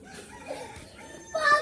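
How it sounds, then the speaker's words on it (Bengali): Chickens at a rural farmyard in Jessore, Bangladesh, cluck and squawk faintly in the background, with a slightly louder burst near the end. "ওই যে একটা মুরগি ওই যে গাইস আরেকটা মুরগি"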